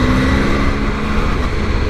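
A 2020 Triumph Tiger 800 motorcycle engine idles and rolls at low revs in heavy traffic, a steady, loud, smooth drone with a constant wind-like rush and no talking.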